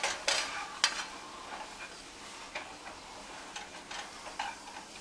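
Onions and green onions being stirred in a pan for nachos, with a few sharp scraping and tapping strokes over a faint, quiet sizzle, then lighter irregular clicks of the utensil.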